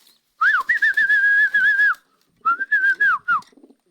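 Pigeons give two bursts of clear, wavering whistle-like cooing, close and loud with a short pause between them while being fed.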